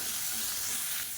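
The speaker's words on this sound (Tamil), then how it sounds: "இப்போ இதையும் சேர்த்து நல்லா வதக்கிக்கலாம்." Tamarind and onions sauté in a pan for a chutney, a brief, faint, steady sizzling hiss without any voices.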